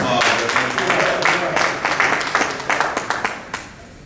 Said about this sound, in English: Brother Reginald Drummond, I'll give him a round of applause